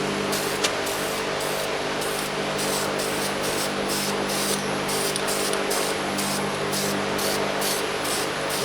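Spray paint hisses from an aerosol can onto a 1977 Camaro Z28 hood part in a series of short, close bursts with brief gaps between them, continuous and fairly loud, no talking.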